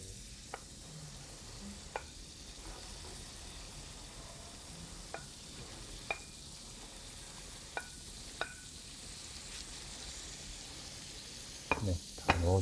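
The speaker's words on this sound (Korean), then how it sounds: "이제 고기가 어느 정도 볶아진 것 같으면 야채를 넣어주도록 할게요" Meat and vegetables stir-fry in a frying pan for bibimbap, a quiet steady sizzle punctuated by scattered taps and scrapes of the utensil against the pan, ending in a louder clatter.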